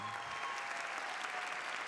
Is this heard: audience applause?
yes